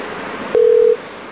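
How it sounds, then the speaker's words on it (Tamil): A single steady dial or dialing tone sounds alone for under half a second as a phone call is placed, loud and clean against low background hiss. "என் ஃப்ரெண்டுக்கு ஃபோன் பண்ணி கேட்டுருக்கேன்"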